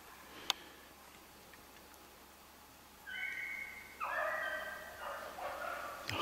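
Beagles bay and yelp at a distance while running a snowshoe hare in winter woods. A faint opening, then a rising chorus of excited cries in the second half.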